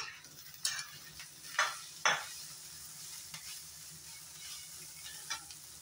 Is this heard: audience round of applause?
no